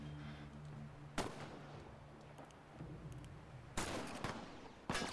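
Gunfire in The Last of Us video game, three sharp, loud shots spaced a second or so apart over a low hum of game ambience, the final two closer together.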